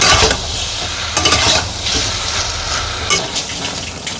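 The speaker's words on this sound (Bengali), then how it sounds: "প্রথমে তো আলুগুলা কষাই নিছি, এখন হচ্ছে বেগুনগুলা দিয়ে দিচ্ছি।" Potatoes and eggplant fry with spices in a pan for a village-style fish curry, a loud continuous sizzle broken by bursts of stirring and scraping, with no talking.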